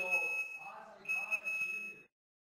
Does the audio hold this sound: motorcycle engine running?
no